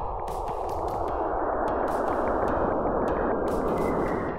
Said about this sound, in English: That's the sound of plasma waves moving between Saturn and its moon Enceladus